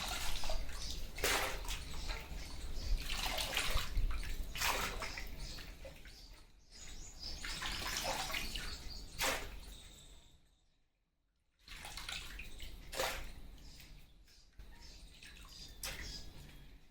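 Thin potato wafer slices are swished and rinsed in fresh water, with sloshing and splashing in bursts, one brief quiet pause, and faint bird chirps in the background.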